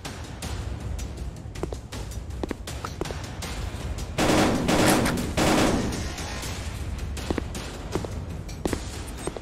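Gunfire in a VR shooting game comes as rapid, dense bursts of shots and clattering impacts, loudest in a sustained burst midway, with footsteps and game noise throughout.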